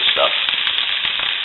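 Sausage fries in a small cast iron skillet, a close, even sizzle with faint crackles, with a brief stir or scrape heard early on.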